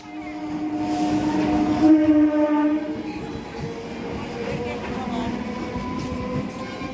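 A train rolls past with a low mechanical hum and a sustained horn-like tone early on, then settles into a steady rumble at moderate distance.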